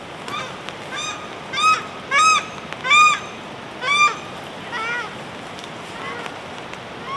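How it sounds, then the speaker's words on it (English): Paradise ducks give a series of loud, harsh honking calls in bursts of two or three, close by in a rainy New Zealand mountain camp, with steady rain or wind hiss beneath. "Those are paradise ducks."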